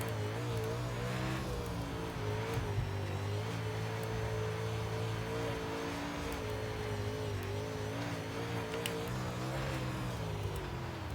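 Dirt modified race car in iRacing revs and drones through corners, engine pitch rising and falling with throttle and tyres occasionally squealing, loud and steady with no talk.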